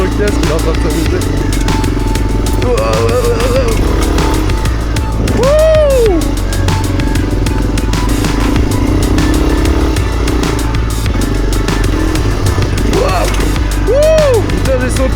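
A Honda NX 250 dual-sport motorcycle engine drones continuously, revving up and down while riding off-road over rough ground, with wind buffeting and a voice talking over it.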